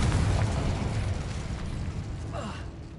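Incendio and Confringo spell blasts in Hogwarts Legacy sound as a deep rumbling fiery burst that is loudest at the start, then a rolling roar that slowly fades, with a brief whooshing flare near the end.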